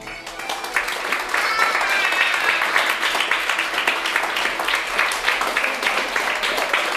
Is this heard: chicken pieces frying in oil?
no